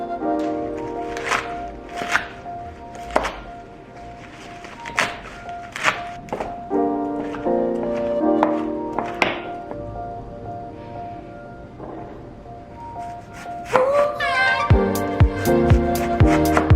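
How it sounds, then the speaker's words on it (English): Salad vegetables chopped with a knife on a wooden board, giving close, irregular thunks and taps at a moderate pace under background music, with brief clattering near the end. "I chopped up everything for a salad"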